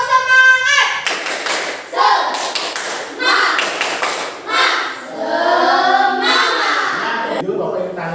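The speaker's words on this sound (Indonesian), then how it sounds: "Tepuk semangat." Classroom pupils perform a rhythmic spirit clap, with crisp, loud bursts of patterned claps and taps in quick sequences separated by short pauses, with children's voices chanting along between claps.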